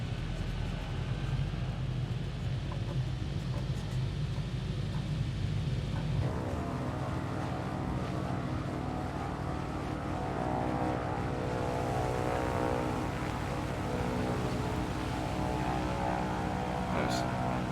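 A twin propeller airplane throttles up and rolls for takeoff on a backcountry sandbar airstrip, steady droning engine hum that rises in pitch and power partway through, heard from inside the cabin with pilot talk over it.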